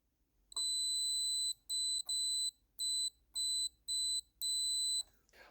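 A multimeter's continuity beeper sounds on the terminals of a factory Mopar power window motor. It gives seven sharp, loud electronic beeps in an irregular on-off rhythm, close up and with no talk.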